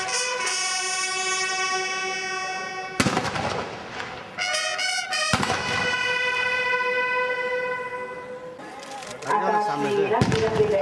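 Firecrackers burst in sharp cracking volleys at the opening ceremony of an all-India police football tournament in a stadium, over a steady loud horn-like drone and crowd noise, with bursts clustered near the start, middle and end.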